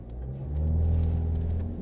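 A 2018 Land Rover Discovery Sport diesel revs up at a standing launch, its low engine rumble swelling and holding steady before easing slightly, alone and close.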